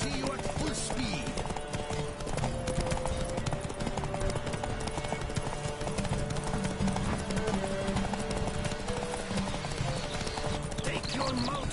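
A horse gallops at full speed in The Witcher 3. Rapid, continuous hoofbeats pound throughout, layered with dense game sound and voices.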